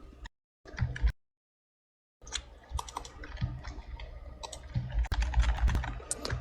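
Typing on a computer keyboard while working in Windows 10, a run of quick irregular key clicks close to the microphone, broken by two brief silent gaps before resuming steadily.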